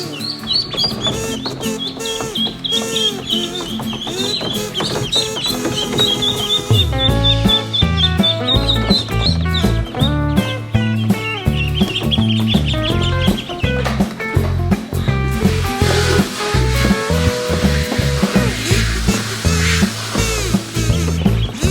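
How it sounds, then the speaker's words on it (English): Ducklings on a backyard farm peep in a continuous high chorus of overlapping chirps, close and busy, with a louder low rumbling layer joining partway through. "we are Ducky again because we have some new ducklings"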